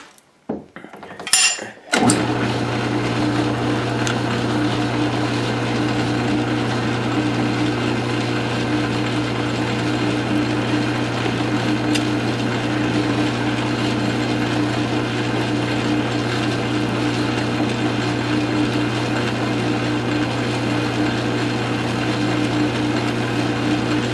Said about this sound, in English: we're going to do the internal threads first, but what we're going to do is just punch through with a 3/4 inch drill bit to remove the bulk of this material